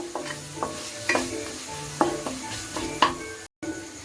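Masala spices frying in oil in a pan for Amritsari aloo wadiyan, a steady sizzle under repeated scraping stirs of a spoon roughly once a second, close and clear with no talking.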